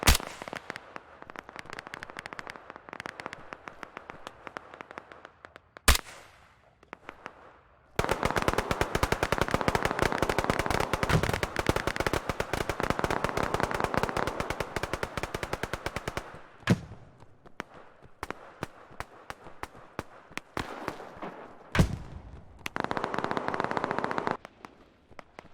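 Gunfire in a free shooter video game: long, rapid automatic bursts of close, loud shots alternate with shorter strings of single cracks and brief quiet gaps, the longest burst rattling on for about eight seconds.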